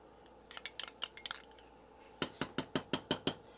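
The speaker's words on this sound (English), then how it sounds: "Now I'm going to stir in my sour cream." Spoon stirring sour cream into cheese sauce for macaroni, giving a run of sharp metallic clinks against the pot: a quick cluster, a pause, then a steady, rhythmic series of louder taps, close and with no talk.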